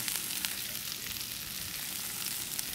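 Vegetables sauté in butter in a pan, a steady, close hiss of frying with faint stirring scrapes, continuous and unaccompanied by talk.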